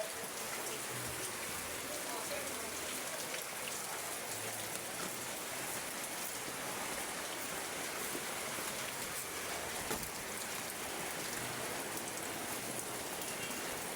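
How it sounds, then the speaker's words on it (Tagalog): Steady rain falls at a construction site during a storm as a dense, even hiss of drops on surfaces, continuous and close throughout, with no other sound standing out. "Maulan."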